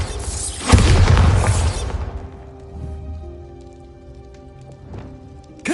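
A Bombarda blasting spell detonates in a game with one loud, broad boom that rumbles and fades into a quieter ambient bed, with faint rattling and a sharp hit at the end; no talking.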